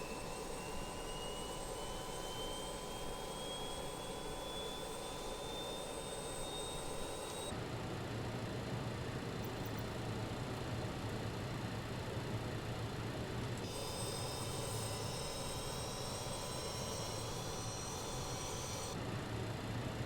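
Jet engines spool up in Microsoft Flight Simulator with a rising whine over a steady low roar, loud and continuous, the pitch climbing as a second engine starts partway through.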